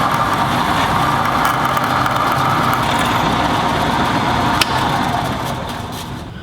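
Drill press cutting a hole in metal trowel stock, a loud constant motor whine and grinding hiss with one brief sharp click near the end before the noise eases slightly.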